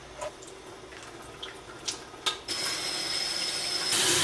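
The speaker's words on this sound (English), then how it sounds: "So we're just gonna rinse these." Canned beans are rinsed under a kitchen tap, water splashing and running steadily, getting louder and fuller toward the end after a few light knocks and drips.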